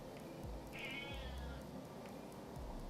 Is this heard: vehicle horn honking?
no